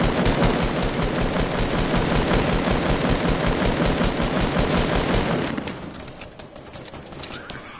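Dense, rapid video game gunfire rattles loudly and continuously for about five seconds, then drops off into quieter scattered shots and background noise.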